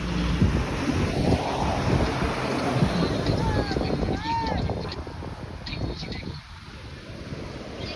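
Sea waves on Cox's Bazar beach wash in as a broad, continuous roar, heavy with wind buffeting the microphone. A faint voice drifts through the surf.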